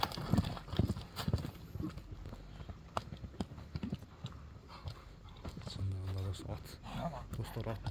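Horse hooves clip-clop in an uneven run, the knocks loud and near at first and then lighter, with people talking over them, and a brief whinny near the end.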